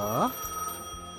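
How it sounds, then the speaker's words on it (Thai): A telephone rings once in Gas Station Simulator, a short bright trilling burst near the start that fades into the game's steady background hum, with someone speaking over it. "แล้วก็มีโทรศัพท์เหรอ"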